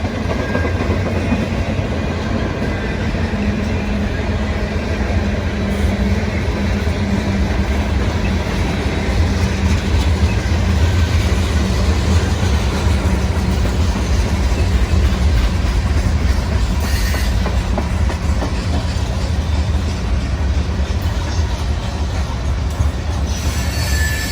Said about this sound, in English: Here we have train 175 coming into Atlanta for a crew swap.